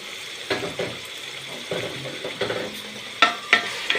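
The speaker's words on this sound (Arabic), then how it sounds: "هبدأ احور فيها كده" Tomato sauce and a spoonful of sugar stirred with onion in a frying pan, a steady soft sizzle broken by scraping strokes and a few sharp spoon clinks against the pan near the end.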